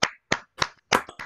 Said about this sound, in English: to give a round of applause at the end of this list